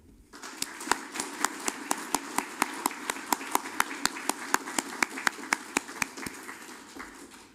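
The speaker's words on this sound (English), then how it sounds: "Let us give them a round of applause." Audience at a State Senate District 13 primary candidates forum claps for the candidates and their families, a crisp, even run of claps across the whole stretch, with faint murmuring under it.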